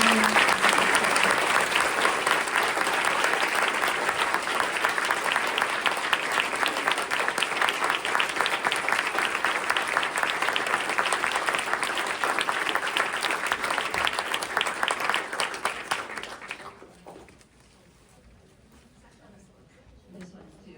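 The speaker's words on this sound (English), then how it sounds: "a big round of applause for our guests" An audience at a patient clinic event gives a long, full round of applause for guest doctors, dense clapping holding steady for over fifteen seconds before fading abruptly into quiet room tone with faint voices.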